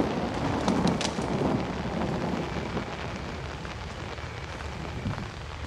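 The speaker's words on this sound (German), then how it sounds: "das war nur Regen" Rain in the horror video game Outlast, a steady hiss of rainfall with soft, dense patter that stays even and fairly faint throughout.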